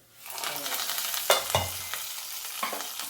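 Hot fried dal tempering tipped into avada sizzles and crackles loudly, with a couple of sharp pops and spoon scrapes as it is stirred in, close up and with no talking.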